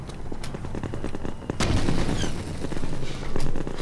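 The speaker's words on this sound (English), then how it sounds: "while being shot at by everyone" Gunfire in Half-Life 2, a steady patter of shots and rattling bursts with a louder volley midway, dense and continuous over a rumbling game backdrop.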